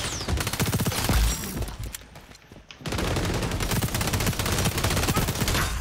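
Rapid, dense gunfire bursts from shotgun-heavy combat in the video game XDefiant, loud and sustained with a short lull in the middle before the firing resumes.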